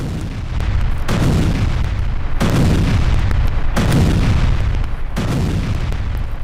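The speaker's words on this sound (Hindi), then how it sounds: "इंटरकॉन्टिनेंटल बैलिस्टिक मिसाइल आईसीबीएम हमले का लेटेस्ट वीडियो सामने आया है" Heavy explosions from an ICBM missile strike on Dnipro hit in a sequence of about five booming blasts at roughly one-second intervals, each leaving a rumbling tail, with no voices heard.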